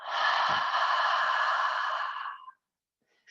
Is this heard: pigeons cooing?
no